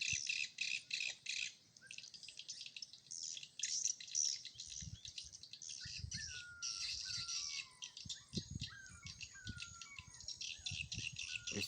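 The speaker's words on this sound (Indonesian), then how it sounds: "SP yang dibagikan Bang Yusril, SP burung gaib, tarikannya tambah mantap." A recorded bird-call lure plays outdoors, with repeated bright chirps and squawking bursts and falling whistled notes over faint insect-like buzzing, continuous for several seconds with occasional low thumps.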